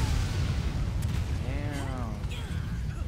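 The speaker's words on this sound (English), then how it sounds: "Is it time to throw your grenade now?" A grenade blast in Resident Evil 5 lands as a heavy low boom that rolls into a sustained rumble, with people talking faintly over it.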